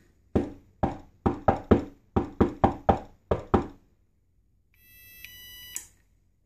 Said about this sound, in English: the speaker plays the knock sequence when you have finished